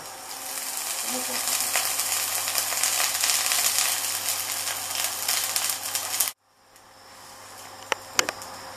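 A round zucchini slice sizzles loudly in olive oil in a hot pan, a steady crackling hiss that cuts off abruptly, leaving faint clicks afterward.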